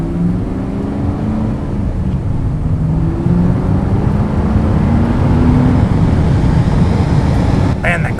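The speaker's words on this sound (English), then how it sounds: "a brand new LS1 6-speed Camaro" A 2002 Chevrolet Camaro SS with an LS1 V8 and 6-speed manual is on the move, its engine droning low and steady. Faint rising tones suggest gears being worked, with road and wind noise throughout.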